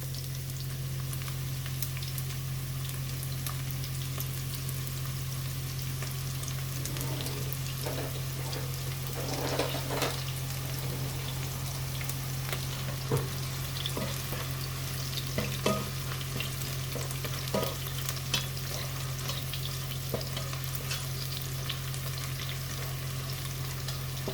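Onion frying in oil in a pot, a steady close crackling sizzle with occasional stirring clinks, over a constant low electrical hum.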